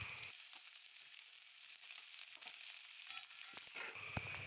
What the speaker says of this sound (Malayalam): ഇനി നമുക്ക് ആ എണ്ണയിലേക്ക് തന്നെ സവോള ഇട്ട് ഒന്ന് വഴറ്റി കൊടുക്കാം.